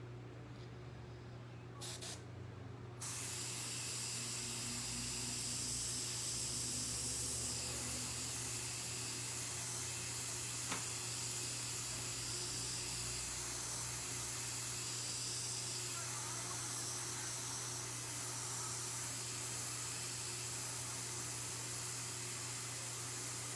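An airbrush gun sprays paint with a steady, continuous close hiss that starts after a brief quiet opening and then runs unbroken, with a constant low hum underneath.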